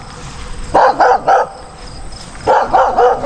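Dogs bark near a home vegetable garden at tomato harvest, loud bursts of several quick barks in two clusters separated by a brief pause.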